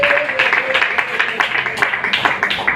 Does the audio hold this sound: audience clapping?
yes